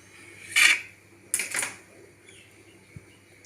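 A knife cuts through a steamed four-lentil idli on a plate, two short scraping clinks of metal on the dish close by, then quiet.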